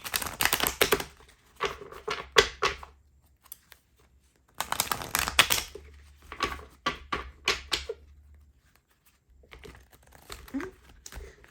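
Tarot cards are shuffled in rapid papery riffles and slaps, coming in bursts separated by pauses, close up.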